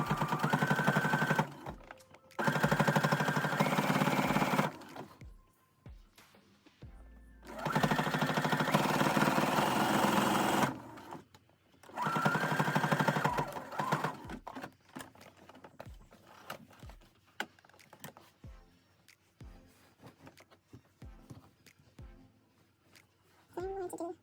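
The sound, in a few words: sewing machine sewing sides of a shirt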